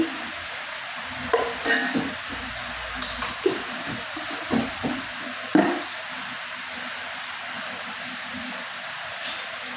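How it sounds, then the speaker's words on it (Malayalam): Soybean chunks sizzle in a pan with chili powder, turmeric and salt, a steady frying hiss broken by scraping stirs and clacks of the spoon, close and moderately loud with no talking. "ഇളക്കി ഇളക്കി ഇളക്കി ഇളക്കി ഫ്രൈ ചെയ്തെടുക്കണം."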